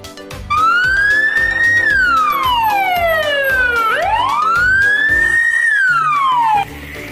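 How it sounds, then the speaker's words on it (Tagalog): A loud, close siren wailing up and down in long sweeps, over a pulsing engine rumble, ending as the tone drops away. "ambulansya, ambulance"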